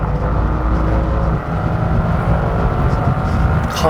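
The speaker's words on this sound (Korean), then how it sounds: "가속대 들려오는 시원스러운 배기 사운드" Turbocharged 4.0-litre twin-turbo engine of a Mercedes-AMG C63 pulls hard, a loud, steady, deep exhaust drone heard from inside the car under acceleration, with no talking.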